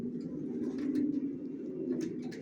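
Racer pigeon babies for sale coo continuously in a low, throaty drone, several birds murmuring together at close range.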